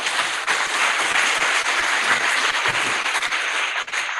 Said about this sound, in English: I just want to ask you guys to give yourselves a round of applause.